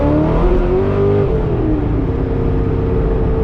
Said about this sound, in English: That LS7 sounds so good.